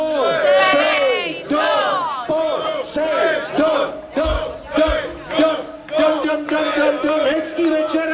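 A concert crowd at a show in Žatec chants loudly and rhythmically in unison, repeated shouted phrases rising and falling close by, with no single voice standing out.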